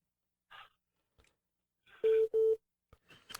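A telephone rings on an incoming call, two short loud electronic ring bursts close together, with faint breaths and brief sounds around them.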